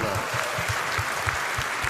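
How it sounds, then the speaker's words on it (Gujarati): A Gujarati comedy show audience claps loudly and continuously, a dense close wash of applause with a steady rhythmic low thumping running through it. "એટલે એકવાર મણિરાજભાઈને જોરદાર તાળી હતો."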